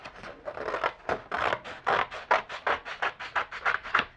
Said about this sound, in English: so I'm going to cut them out.